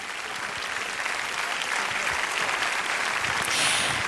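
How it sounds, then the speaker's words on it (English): Audience applause at the Miss Oklahoma 2010 pageant, a dense, steady wash of many hands clapping that fills the hall at full strength for the whole stretch. "Let's give those donors and supporters a huge round of applause"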